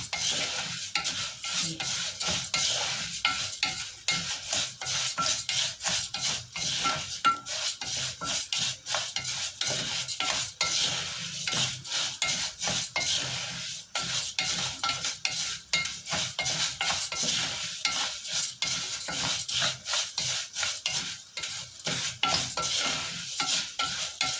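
Orzo pasta is toasted in a pot for soup while a spoon stirs it nonstop, giving a dense rasping, scraping rattle with a light sizzle underneath, close and steady for the whole stretch, no speech.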